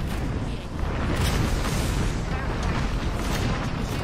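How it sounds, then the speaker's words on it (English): Airstrike explosions in Apex Legends roar as a dense, continuous rumbling barrage, loud and broadband, with overlapping blasts blending into one sustained wall of noise. "Another airstrike?"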